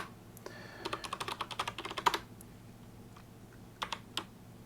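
Someone types a Linux terminal command on a computer keyboard: a quick, close run of crisp keystrokes, a pause, then a few scattered final taps.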